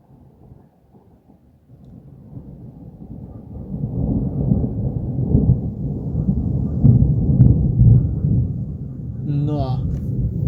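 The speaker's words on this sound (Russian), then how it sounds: "Это как сухая гроза" Thunder from a passing evening thunderstorm over Kharkiv rolls in as a low rumble that swells and lingers, heard outdoors with some wind buffeting the microphone and a voice briefly at the end.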